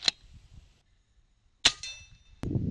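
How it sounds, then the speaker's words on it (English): Two sharp, snappy shots from an FX Boss air rifle ring out outdoors about a second and a half apart, each a crisp crack with a short metallic ring, followed by a thud and low rustle. "we do have to shoot just a few groups with the FX Boss for comparison in the daylight"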